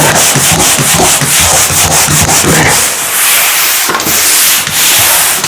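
Wall being sanded during a home renovation: loud, continuous scratchy abrasive rubbing with rhythmic back-and-forth strokes, close up and without talk.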